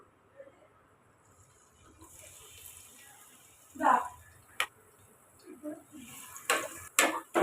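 Ground masala paste for chicken biryani drops into hot oil and ghee in a pot, starting a soft sizzle, with spoon clinks and scraping knocks against the vessel and a voice talking.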